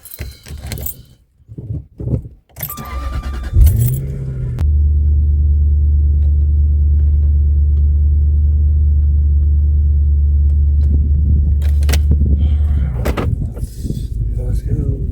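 Jaguar XJ8 with a performance air intake heard from inside the car: after key and door clatter, the engine starts and settles into a loud, steady low idle rumble for several seconds, then other cabin noises return.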